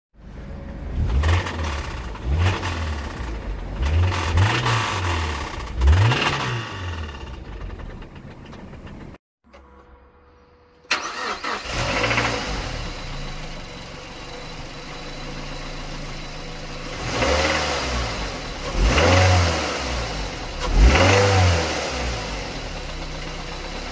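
A Volvo 240 car engine with a spun bearing runs and revs repeatedly with a rough, knocking mechanical rhythm, briefly cutting out midway before starting up again, loud and close.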